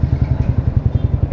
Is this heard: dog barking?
no